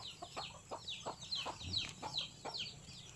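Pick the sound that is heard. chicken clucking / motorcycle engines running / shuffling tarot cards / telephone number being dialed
chicken clucking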